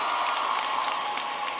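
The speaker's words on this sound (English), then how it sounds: "let's give this cast of Scandal another round of applause" An audience at a high school commencement applauds steadily in a dense, even wash of clapping that fills the space without a break.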